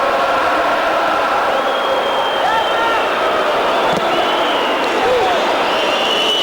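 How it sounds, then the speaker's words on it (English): A football crowd whistles and roars in the stadium during the Lazio vs Rotor UEFA Cup 1997-98 round-of-32 second leg, a steady dense wash of noise with shrill whistles rising above it. "Listen to the whistles of the crowd in the background"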